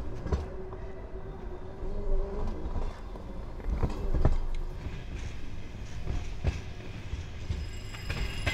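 Steady rumble and rattle of a passenger train running on rails toward Ivdel in the snowy Urals, heard from inside the carriage, with continuous low clatter and occasional sharper knocks and faint wheel squeal.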